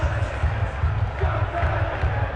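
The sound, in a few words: crowd cheering at Tottenham trophy parade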